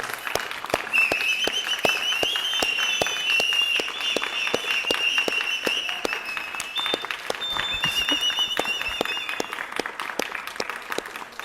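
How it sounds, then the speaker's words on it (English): Steady rhythmic group clapping at a yoga festival, evenly paced claps continuing for several seconds, with a sustained tone running over the top of the applause. "One more round of applause for us all and for the Supreme Pontiff of Hinduism"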